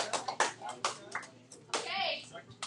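Scattered claps and a few cheers rise from a school algebra class for a classmate, with children's voices chattering over the uneven clapping.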